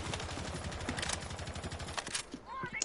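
Rapid bursts of automatic gunfire from a video game weapon fired while testing recoil, sharp repeated shots in quick succession with voices talking over them.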